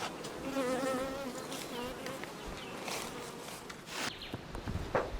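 Honey bee colony humming steadily at a hive after a queen introduction, a dense close buzz with individual bees whining past, with some brief rustling near the end.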